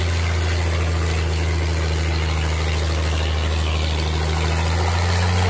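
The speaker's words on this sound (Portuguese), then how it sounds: "Veja, cara, o motor não vai não, meu Deus!" A car engine with a seized motor drones loudly and continuously at a steady low pitch, laboring uphill without letup, close by.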